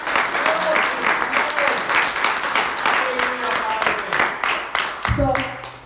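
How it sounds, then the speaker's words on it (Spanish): A church congregation breaks into sustained applause, dense and loud throughout, with voices calling out over the clapping and a tonal cry near the end. "Denle un aplauso a Jesús"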